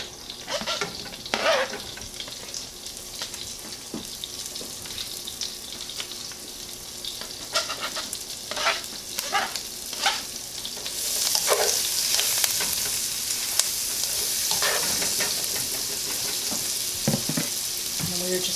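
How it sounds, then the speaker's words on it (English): Herbs sizzle in butter and turkey drippings in a saute pan, a continuous close crackle with repeated stirring scrapes, growing louder and hissier in the second half. "I'm going to add these things to my saute pan with the butter"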